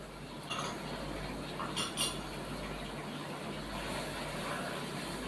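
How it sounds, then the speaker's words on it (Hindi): A spoon scrapes and clinks in a pan as spices like salt, turmeric, red chili powder and crushed red pepper are mixed into chicken for gobhi gosht, a few soft clinks over a steady low background hum. "इन सब मसालों को शामिल करने के बाद इसको अच्छे तरीके से मिक्स कर लेते हैं"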